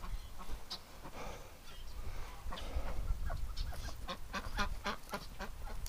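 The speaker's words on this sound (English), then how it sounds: "we got a little hurt duck" A hurt female duck calls amid other ducks and fowl, with repeated short quacks and squawks growing denser and louder toward the end over steady background noise.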